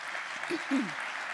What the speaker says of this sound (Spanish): un aplauso para la comunidad de Colombia